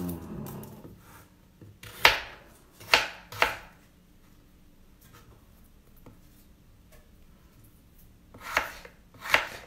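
A knife chops food on a board in short bursts, a few sharp cuts early, a quiet pause, then two more near the end.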